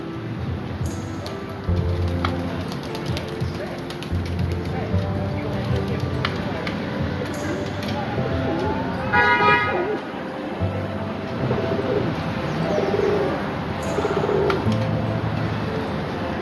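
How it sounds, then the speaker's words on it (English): Pigeons cooing on a city sidewalk amid a large flock, with soft repeated coos under steady street noise, a brief horn-like toot, and occasional talk nearby. "Just heard cooing."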